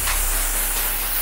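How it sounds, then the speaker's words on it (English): An aerosol is sprayed onto Jordan 1 Quai 54 sneakers outdoors, giving a steady, close hiss that lasts the whole moment without pause. "Spray this bad boy on here."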